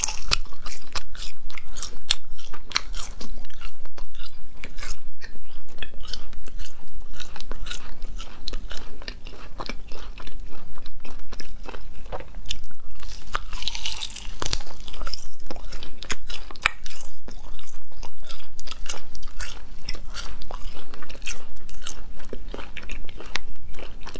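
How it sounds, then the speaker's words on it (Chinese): Close-up, crisp crunching and chewing of spicy latiao gluten snack strips, repeated bites and steady mastication for over twenty seconds with no talking. "大辣片儿，超好吃。"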